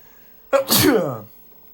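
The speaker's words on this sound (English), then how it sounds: "I'm going to sneeze here." One close sneeze, a sharp intake then a long explosive burst, loud and alone.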